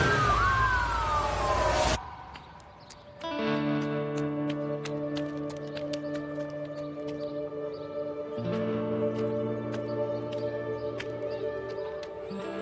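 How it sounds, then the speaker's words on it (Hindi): An ambulance siren wails briefly at the start, loud and rising, then cuts off as a sustained musical drone takes over. "एम्बुलेंस तेज भगाओ।"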